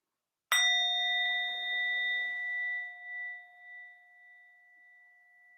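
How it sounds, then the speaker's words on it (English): One clear strike of a mindfulness bell, a bright ding whose pure ringing tone sustains and slowly fades over several seconds in a quiet room. "we'll just begin with the sound of the bell"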